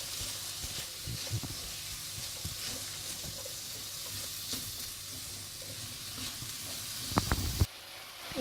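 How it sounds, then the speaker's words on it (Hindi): Vegetables stir-frying over a high flame for chicken chow mein give a steady sizzling hiss with soft stirring scrapes, then a burst of louder clatter near the end before the sound cuts off, with no voices. "सब्जियों को हाई फ्लेम पे, इनको बहुत ज़्यादा भी फ्राई नहीं करना"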